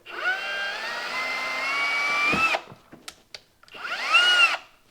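A power drill whines loudly for a couple of seconds as it drills into a wall, stops with a few clicks and knocks, then spins up again in a second short burst.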